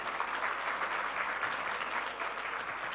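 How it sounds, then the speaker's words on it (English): An audience at an evening news forum awards ceremony applauds the award recipients, a dense, even round of clapping that holds steady for about three seconds at moderate distance. "give a big round of applause to all recipients for tonight"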